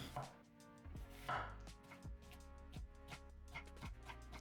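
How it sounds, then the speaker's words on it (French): A knife slices an onion into thin strips for a homemade burger, giving a steady run of sharp, close board knocks at an even rhythm over faint background clatter. "On va ensuite découper un oignon, donc je le coupe en petites lamelles."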